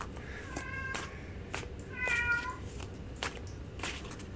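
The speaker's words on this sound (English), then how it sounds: "You hear the one crying cat in the background?" A pet cat named Sassy meows and cries in two or three drawn-out, wavering calls, mid-distance and fairly clear over a low background hum.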